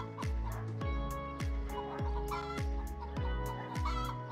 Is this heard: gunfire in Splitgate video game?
no